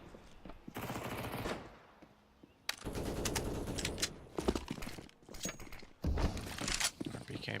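Rifle fire in a Counter-Strike match at the IEM Katowice Major 2019 comes in loud rapid bursts separated by short pauses. A commentator talks over the shooting.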